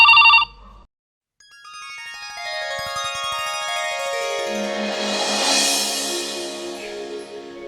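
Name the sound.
phone ringtone ringing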